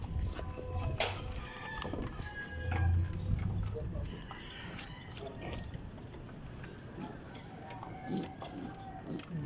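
Pigeons settling into a new loft give soft repeated coos and rustling wing flaps over a steady bed of shuffling and patter, with a person talking nearby.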